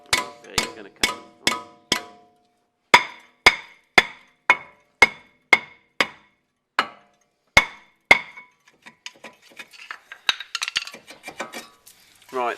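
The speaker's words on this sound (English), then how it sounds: "normally you can rotate the disc and just keep tapping it from behind" A hammer taps a Land Rover Freelander 2 diesel front brake disc from behind, giving sharp metallic knocks spaced about half a second apart. A looser clatter of lighter knocks follows near the end.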